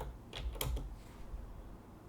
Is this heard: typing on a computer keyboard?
yes